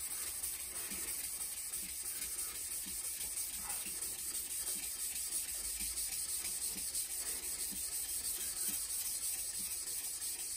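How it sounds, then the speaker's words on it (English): Steady abrasive rubbing of a Japanese wide-bevel knife pressed hard against a wet whetstone, continuous grinding strokes at close range with no talk. "with quite a bit of pressure into the stone because I really want the stone to cut and remove steel"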